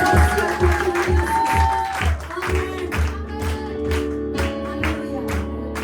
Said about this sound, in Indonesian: saya rindu kita berikan tepuk tangan